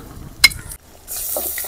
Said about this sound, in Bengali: সুন্দর মাটনটা এবার আমরা দিয়ে দেবো।